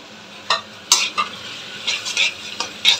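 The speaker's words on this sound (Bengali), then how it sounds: "এগুলো আমি একসাথে সব দিয়ে মোটামুটি এটাকে আমি আরামসে একটু জল দিয়ে কষাবো" Spices for chicken kosha (chilli, pepper, garam masala, turmeric) being stirred and fried with a splash of water in a pan, a close sizzle broken by several sharp scraping stirs at irregular intervals.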